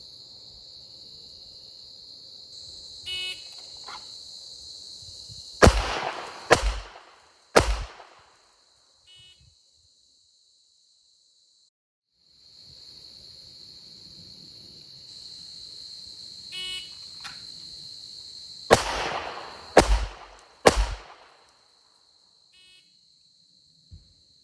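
Handgun shots from an Inglis Hi Power and a Canik Rival DS fired at 15 yards, two bursts of three sharp, loud cracks each, separated by a quiet pause, with steady insect-like background hiss.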